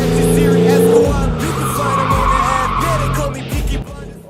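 A car skids through a handbrake turn, tires squealing loudly over a steady engine roar that shifts pitch as the car slides, close and continuous for several seconds.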